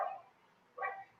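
A dog barks from somewhere downstairs in a home, two short bursts separated by a pause, moderately faint and heard alone.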